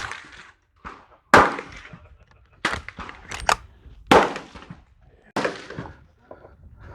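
Suppressed rifle shots from a SilencerCo Omega 300 on a Ruger Ranch, about five sharp muffled cracks spaced irregularly, each with a short decay and faint clatter in between.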